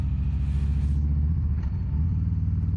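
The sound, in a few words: car driving past on the road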